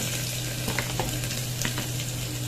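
Garlic dropped into hot oil with dried red chillies for Thudhuvalai rasam crackles in a constant close sizzle, with small pops and stirring clicks throughout.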